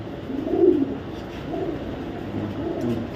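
Young grizzle racing pigeons coo softly in three low, throaty phrases spaced about a second apart. The sound is close and quiet, with no talk over it.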